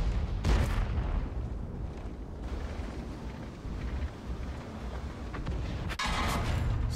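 Artillery fire in the tank game World of Tanks: a deep rolling boom near the start and another heavy blast late on, over a steady low battle rumble.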